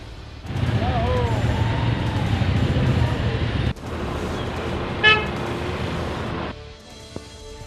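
Traffic jam on a street in Poonch, with a dense rumble of idling vehicles and a short burst of car horn toots midway, while a voice talks over the steady road noise.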